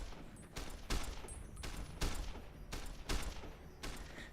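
Gunfire in Fallout New Vegas, a series of loud, evenly spaced shots roughly once a second, each a sharp blast with a short rumbling tail, with no talk over them.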